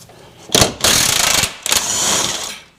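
A ratchet working on the track bar bolt of a Jeep JLUR, with three bursts of rapid clicking, close and fairly loud, and no talking.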